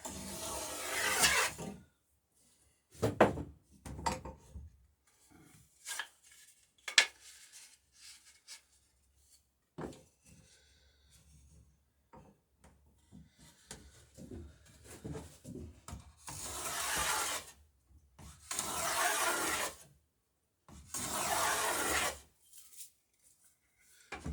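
A hand plane shaving the edges of wooden trim pieces for a Chamberlain Alpha Dory boat build, several bursts of scraping and rasping strokes separated by quiet pauses, close and fairly loud with no talk.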